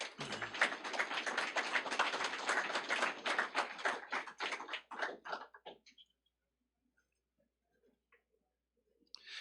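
A crowd at a career and technical education letter-of-intent signing day at TCAT-Pulaski breaks into brisk, dense clapping that thins into a few last claps after about five seconds, then falls to near silence.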